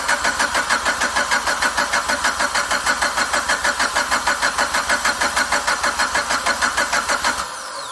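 A car fitted with an FP Red turbo cranks over in a loud, even chug of starter pulses for about seven seconds, then catches and settles into a smoother running note as the clip ends.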